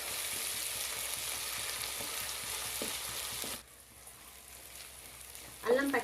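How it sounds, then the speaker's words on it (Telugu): Ginger is stirred into chicken frying in a pan for gongura chicken, a continuous sizzling hiss for a few seconds that then drops to a quieter simmer, followed by a short burst of speech. "అల్లం కూడా పచ్చి వాసన పోయేలాగా మంచిగా కలుపుకోవాలి"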